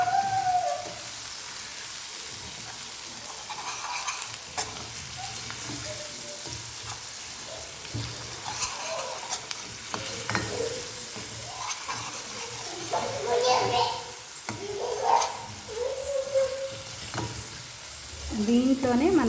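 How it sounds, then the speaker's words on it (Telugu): Brinjal curry sizzling and frying in a pan as turmeric and salt are stirred in, with scraping stir strokes that grow louder toward the end while someone talks over the cooking. "1 టేబుల్ స్పూన్ పసుపు, అలానే సాల్ట్ కూడా వేసుకొని మనం దీన్ని అయితే ఒకసారి కలుపుకుందాము"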